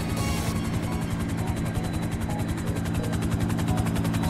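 A helicopter flies in GTA roleplay during an aerial chase. A loud, continuous rotor thumping and engine drone fill the whole stretch with no talking.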